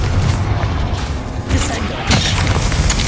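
Bombarda blasting spell explosion in Hogwarts Legacy, a deep booming blast with crashing debris, followed by a second heavier impact, all loud and dense over a rumbling game soundscape.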